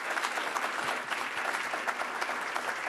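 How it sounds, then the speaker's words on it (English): Audience at a county judge candidate forum giving a round of applause, dense steady clapping from a room full of people, loud and close, with no talk over it. "A round of applause for our candidates here tonight"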